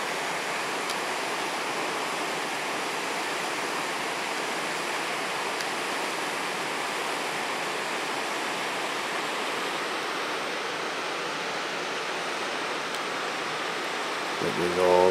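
Steady, broadband rush of a waterfall in the North Cascades, fed by avalanche-felled logs, heard close and continuous with no pauses, filling the scene at a constant loud level.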